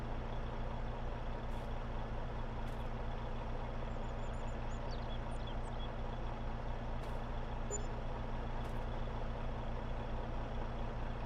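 A CASE 1455 tractor engine in Farming Simulator 22 holds a steady, loud, close drone with a constant low hum throughout, and a few faint high chirps sit above it.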